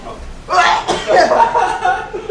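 A single sharp sneeze bursts out close by, followed by a breathy, voiced trailing sound like a second stifled sneeze or a reaction.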